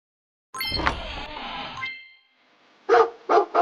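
A cartoon dog barks in a witch's-brew brain puzzle video game: a longer whining tone comes first, then three short, close barks in quick succession.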